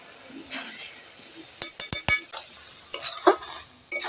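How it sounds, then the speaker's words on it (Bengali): A spatula stirs banana flower ghonto in a pan over a low sizzle, with a quick run of sharp metallic clinks and scrapes, then further scraping strokes; no one speaks. "খুন্তির সাহায্যে আমি একটু ঘেঁটে দেব।"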